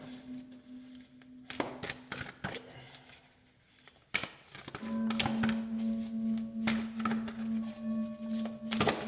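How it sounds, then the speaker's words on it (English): Cards being riffled and shuffled in quick bursts with sharp slaps, close up, over a steady low hum in the background. "I like to shuffle on here so y'all see what's going on"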